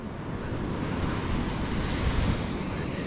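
Surf rolls in steadily at Abagatanen Beach in Pangasinan, a continuous close wash of breaking sea waves with some wind buffeting the microphone, and no one speaking.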